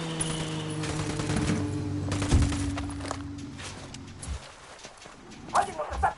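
Rapid gunfire from an in-game firefight in Ghost Recon Wildlands, several bursts and sharp shots in the first few seconds over a steady game soundtrack hum, then a quieter stretch with scattered distant reports.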